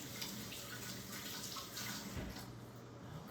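Tap water runs in a steady, unbroken stream as pieces of beef for stew are rinsed under it, a close, even splashing hiss with no talk.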